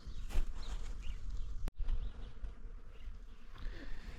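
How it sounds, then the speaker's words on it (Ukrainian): Bees buzz and drone around up close, several passing near with rising and falling hums, plus a brief sharp click midway. "коли літають і гудуть бджоли"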